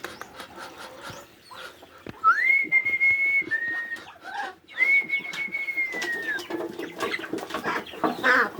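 Pet ducks being fed, with clucking poultry calls and several clear, sliding whistle-like notes over scattered pecking and handling noises, fairly close and moderately loud.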